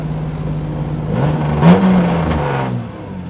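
A 1963 Jaguar E-type Lightweight engine revs and accelerates up close, a steady low drone climbing and swelling in pitch, peaking near the middle before easing off.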